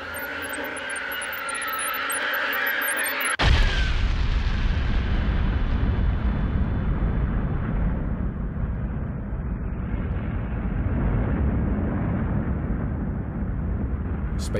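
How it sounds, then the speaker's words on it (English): A massive cosmic explosion, the Big Bang, bursts in abruptly after a brief bright shimmer, then settles into a loud, deep, sustained rumbling roar that rolls on without a break. "space itself exploded in a burst of radiant energy"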